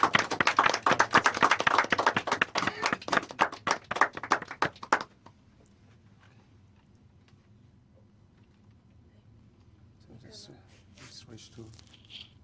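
Audience applause at a realme GT7 battery record event, a burst of many hands clapping loudly for about five seconds before stopping abruptly, followed by quiet room tone and faint distant voices.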